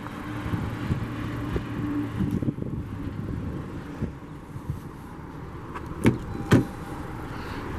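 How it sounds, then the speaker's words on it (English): A 2017 Honda CR-V Touring AWD's automatic driver's-side power window motor humming steadily as the glass rises, then stopping; two soft clicks follow in the quiet cabin, with no voices. "Bring the automatic driver's side window back up."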